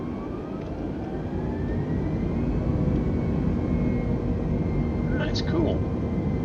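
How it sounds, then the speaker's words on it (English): Turbofan engines of an airliner in MS Flight Simulator roar steadily as the throttle is worked, a dense loud whine with a rising tone, while someone talks over it. "You can hear the turbofan engines on this bad boy."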